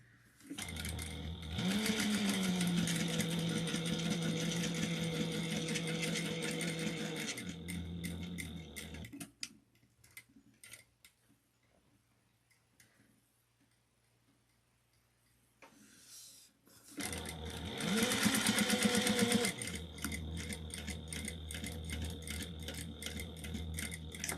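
A sewing machine stitches steadily toward a corner while making a wristlet, stops and falls quiet for several seconds during the pivot, then resumes stitching loudly and close.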